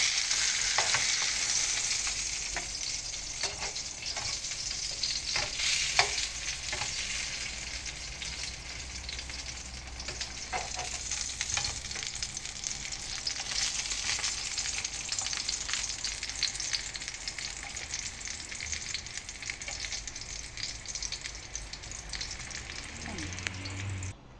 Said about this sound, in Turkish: Biberlerimi kızarttım.